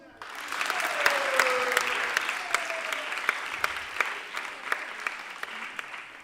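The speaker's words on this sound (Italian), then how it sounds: "adesso facciamo una prova di applauso" Audience applause from a comedy show crowd rises quickly into sustained clapping that continues for several seconds, with a few overlapping voices and shouts in the room.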